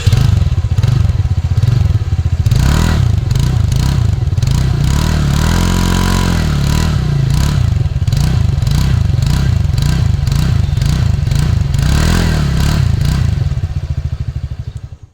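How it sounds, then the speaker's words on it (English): A TVS NTorq Race XP scooter's exhaust sounds loud and close as its engine is revved in a rapid series of throttle blips. The pulsing note carries on for about fifteen seconds, then cuts off at the end. "Let us now hear that how it sounds. First the horn and then the exhaust."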